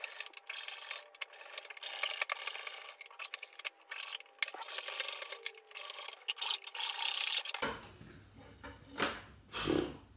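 A hand saw cuts through wood for a cutting board, producing repeated close rasping strokes with short pauses. The sawing stops near the end, leaving a few quieter knocks and shuffles.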